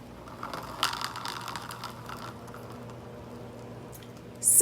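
A wheel-and-axle system built from cups and straws rolls across a surface, making soft rattling, clicking and ratchet-like scraping that is closest at the start, then thins out before a sudden loud clatter at the end.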